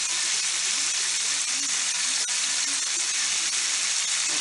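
Okra coated in egg, milk and cornmeal frying in hot oil, a dense, steady sizzle and hiss with faint crackles, close and continuous with no voices.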